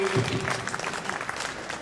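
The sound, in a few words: audience applause at end of session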